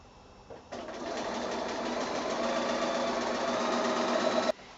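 A sewing machine runs continuously for a few seconds, stitching the sides of a quilt with a quarter-inch seam, giving a close, steady mechanical whir that starts abruptly and stops sharply.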